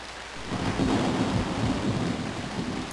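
Steady rain in the survival video game Robinson's Requiem, a dense, even hiss with low rumbling underneath, holding at a constant level for the few seconds without any voices.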